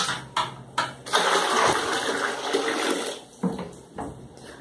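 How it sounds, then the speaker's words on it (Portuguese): Water pours and splashes into a bucket, a steady gushing rush with a few short breaks before and after, close by and with no one talking. "Eu vou colocar água aqui dentro desse balde."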